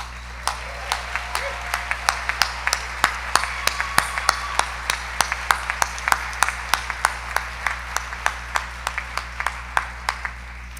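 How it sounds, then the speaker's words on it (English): Scattered applause at a music teachers' awards evening, with sparse, distinct claps spread through a hall at moderate distance, fairly quiet and steady over a low background hum, with faint murmuring beneath. "Let's give another round of applause to our amazing teachers."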